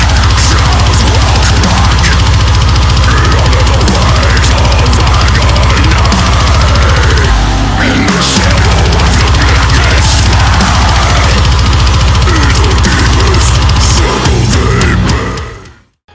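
A heavy metal track: dense, loud, distorted guitars and pounding low end that fill the whole passage continuously, then cut off abruptly at the end.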